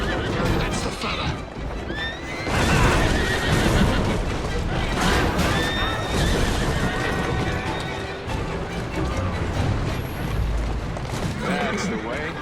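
Horses neigh and whinny repeatedly over clip-clopping hooves, crashes and busy action in Assassin's Creed Syndicate, with voices talking throughout.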